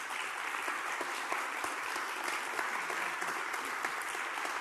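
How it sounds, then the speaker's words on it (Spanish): A seated audience at a public conversation gives writer Alma Guillermoprieto an even, sustained round of applause. The clapping is many-handed, with no voices over it. "Yo les pido un fuerte aplauso para Alma"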